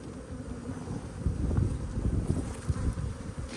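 Honey bees from a long-established colony being removed from a solid cement chimney hum in a dense, steady low drone, rising somewhat louder in the middle, with wind-like rumble mixed in and no talk.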